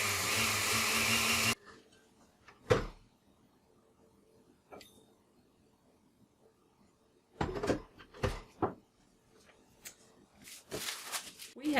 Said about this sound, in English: When you grind cornflakes in your blender,